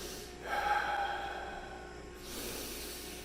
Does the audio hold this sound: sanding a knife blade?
no